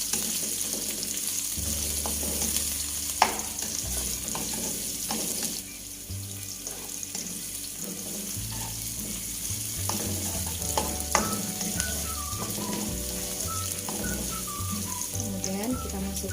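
Garlic, shallots and a little onion frying in a pan, a steady sizzle with stirring scrapes throughout, some clatter and a faint whistle-like tone rising over the top.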